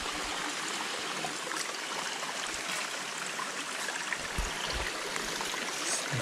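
Water from a spring on a farm flows and trickles nearby in a constant gentle stream, with occasional small splashes and gurgles.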